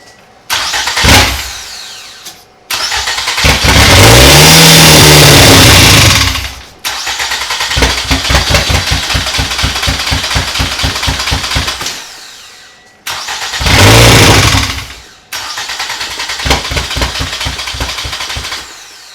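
A flood-damaged Toyota Camry engine cranks and fires, then revs loudly and runs in rough, pulsing stretches that die out and restart several times, with close, loud exhaust and mechanical chatter.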